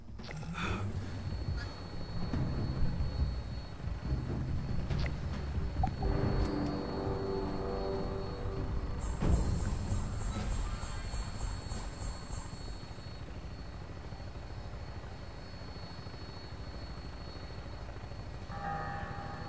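An aircraft in the video game Fallout 76 taking off, a loud rumbling engine roar that builds and then thins into a steady hum with a whine over the top, and no one talking.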